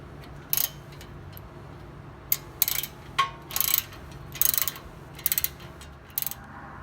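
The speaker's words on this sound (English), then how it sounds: "Snug the caliper bolts back up with your 14mm ratchet and your wrench holding that nut" A 14mm ratchet snugs the brake caliper bolts on a 2011-2015 Honda Odyssey EXL, giving short bursts of rapid clicking, about eight separate runs spaced irregularly, close-up over a quiet background.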